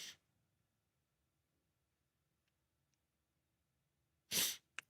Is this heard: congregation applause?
no